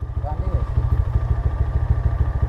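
A motorcycle engine runs steadily nearby on a rough rural road near a bridge. A loud, even low rumble throbs with a regular beat throughout, and a voice comes in briefly near the start.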